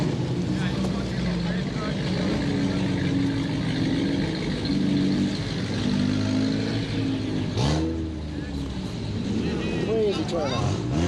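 A V8 car engine revs in a steady, loud, continuous drone that holds throughout, with a brief surge and shift near the middle and a voice talking over it.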